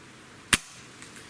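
A single sharp, close shot from a Norica Omnia ZRS .25 air rifle with a wooden stock, a short crisp crack that decays quickly, followed by a faint pellet impact or ring in a quiet setting.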